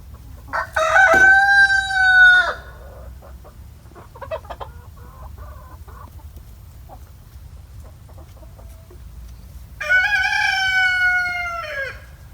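A rooster crows twice on a homestead, loud, long harmonic calls at the start and end, with faint clucking and soft farmyard noise in between and no talk.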